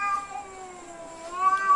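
Male cats courting a lone female cat give out a long, drawn-out wavering yowl, with steady caterwauling tones that rise in pitch and swell near the end, nearby and alone with no talking.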